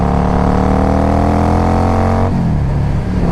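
A 2005 Yamaha V Star 650 motorcycle engine runs steadily at a loud, close idle with a deep, even rumble, the pitch dipping slightly near the end as the revs settle.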